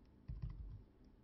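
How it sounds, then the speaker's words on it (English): A command being typed on a computer keyboard, a few soft key clicks in quick succession, faint and close, with no talking. "the only thing we have to do is type in the command."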